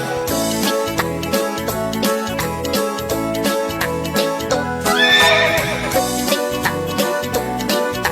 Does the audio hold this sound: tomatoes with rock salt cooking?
no